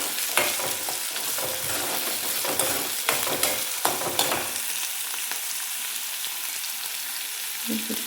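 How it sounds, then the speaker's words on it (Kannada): Onions fry in a pan for a quick hittin palya, giving a steady bright sizzle punctuated by several sharp clinks and scrapes of stirring. "ಈರುಳ್ಳಿ 1 ನಿಮಿಷ ಬೇಯಿಸ್ಕೊಂಡ್ಬಿಡೋಣ."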